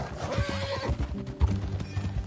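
A horse whinnies loudly with a wavering call, followed by shorter snorts and hoof clatter nearby.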